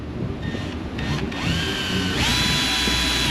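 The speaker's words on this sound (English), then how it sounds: "I'm gonna start drilling some holes in this guy. We've got the drill with a step bit and the vise." Electric drill fitted with a step bit boring holes in a metal part clamped in a vise, a loud close whine that rises in pitch as the bit cuts through, with no talking.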